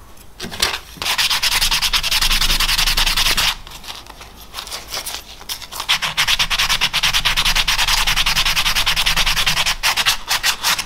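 Polishing of a motorcycle fuel tank bracket cover, a loud continuous abrasive rubbing and whirring that runs steadily for most of the stretch with a brief dip near the middle, no talking.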